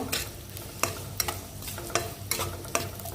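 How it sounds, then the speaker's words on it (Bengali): A large chopped onion fries lightly in a pan, with a constant hiss of sizzling oil broken by periodic scraping stirs of a spatula, close and fairly loud, with no voices. "এখন এটাকে একটু হালকা একটু ভেজে নিব"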